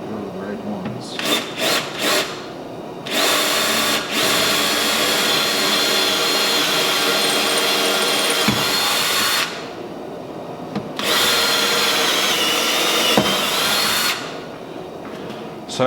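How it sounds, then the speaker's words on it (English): A power drill bores holes through a clamped jig into a cabinet, with loud bursts of whining motor and cutting that run for several seconds at a time, separated by short pauses. "all I gotta do is clamp this jig right there, and I can drill these holes out"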